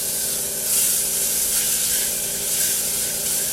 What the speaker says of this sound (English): Our onions are going to saute in the pan for roughly about 2 minutes